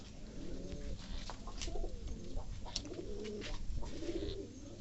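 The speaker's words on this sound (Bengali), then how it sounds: "কবুতরগুলো অনেক একটু ভয় পেয়ে গেছে, এত রাতে সাধারণত আসা হয় না" Pigeons cooing inside a pigeon loft at night, several soft, rolling coos repeating close by over a low background hum.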